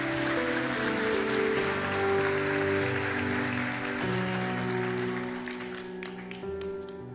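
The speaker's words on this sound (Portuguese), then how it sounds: "Dê o melhor aplauso, você pode dar ao Senhor." A church congregation claps together during an evening service, a dense, sustained wash of applause mixed with music tones and holding steady before tapering slightly near the end.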